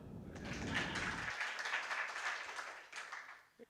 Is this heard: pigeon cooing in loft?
no